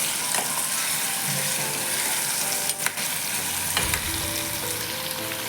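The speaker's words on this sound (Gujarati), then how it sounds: "આપણે ગેસની ફ્લેમ હાઈ રાખવાની છે અને આપણે આ તેલમાં થોડાક કંકોડાને ફ્રાય કરી લઈશું" Spiny gourd fries in oil over a high flame, a loud, dense sizzle that runs unbroken, with a couple of brief stirring scrapes and clunks midway.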